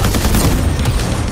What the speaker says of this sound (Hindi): क्या बात है भाई, फायरिंग दबाके हो रही है